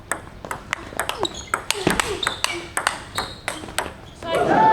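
A table tennis rally in a match: a lively run of sharp, regular ball pings and bounces at close range, with crowd and commentary voices murmuring underneath and a swell of talk near the end.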